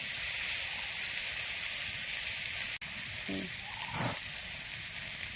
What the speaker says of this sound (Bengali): চাউমিনটা খুব সুন্দরভাবে সেদ্ধ হয়ে গেছে, এবার এটাকে ছেঁকে নেব।